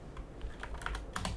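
Quick, light clicks of a computer keyboard being typed on while playing a supermarket simulator game, a brief close-up burst of keystrokes in a quiet room.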